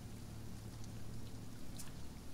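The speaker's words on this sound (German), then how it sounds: "danke, es regnet" Steady rain in the survival game Sheltered, a soft continuous hiss with a low rumble underneath, faint and even throughout.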